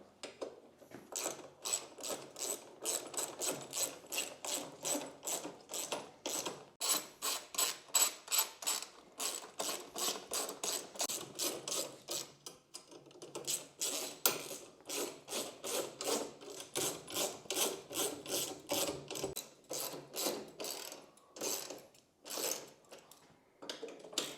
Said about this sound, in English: We're going to go ahead and tighten all the bolts now. Gradually pull them snug.